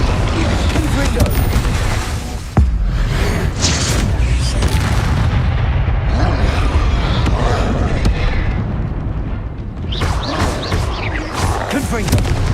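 Explosive blasting spells in Hogwarts Legacy fighting make a continuous barrage of loud booms, crackling bursts and a sharp crack near two and a half seconds, going on for roughly twelve seconds.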